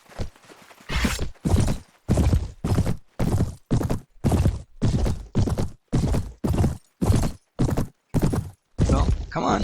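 Rapid, regular thumps of horse hooves galloping in the Mount & Blade: Warband game, fairly loud and steady for the whole stretch, with no talk over them.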